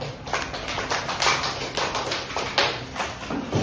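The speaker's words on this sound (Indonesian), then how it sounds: "Oke, beri aplaus pada waktu kita semua." An audience claps after a micro-teaching talk in a room. The applause comes as a dense, steady patter of many hands that carries on without a break and sounds fairly close.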